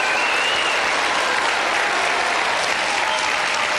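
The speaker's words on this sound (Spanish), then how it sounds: "a quienes les mandamos un aplauso desde Santiago" A television studio audience in Santiago, Chile claps in sustained, dense applause, loud and even throughout, with a faint crowd murmur mixed in.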